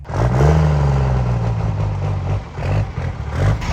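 A drag truck's engine revs hard and loud at close range, holding a rough, throaty roar before easing off and climbing again, with a mechanical clatter underneath.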